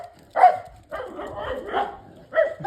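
A pet dog named Rani at a grandmother's house barks in short bursts, four yelps spread over a couple of seconds, fairly close and moderately loud.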